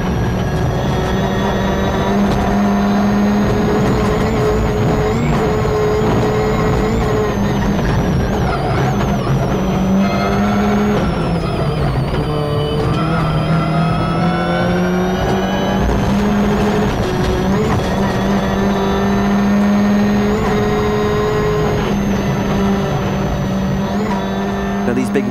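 Ford Focus WRC rally car flat out in sixth gear at about 130 mph on a Jim Clark Rally stage, heard from onboard as a loud, sustained high-revving engine drone with a co-driver's voice over it.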